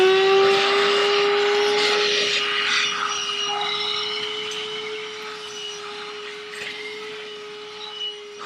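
A Black & Decker Dustbuster Pivot handheld car vacuum cleaner runs loudly and continuously with a steady motor whine, drawing air with a hissing rush throughout.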